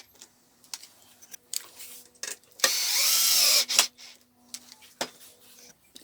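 Screws driven into a wooden mobile supply cart base, fixing it onto the glued sides: a short burst of power-driver whir near the middle, with scattered knocks and clicks of wood handling around it, close and alone.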